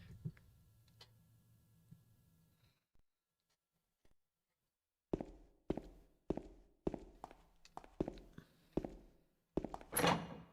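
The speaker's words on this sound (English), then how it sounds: "Footstep noise." In the PS2 horror game Silent Hill 2, a quiet ambient drone gives way to footsteps in a basement. About eight evenly spaced, echoing steps approach and end in a louder burst.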